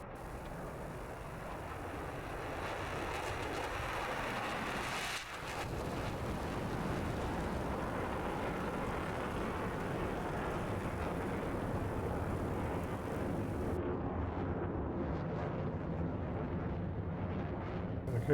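F-16 jets take off in the DCS flight simulator during a tournament match. A continuous, heavy jet roar fills the whole stretch at moderate level, with no talk over it.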